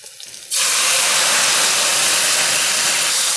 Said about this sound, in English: Deglazing means when I pour it in, it's going to get all that browned bits off the bottom of the pan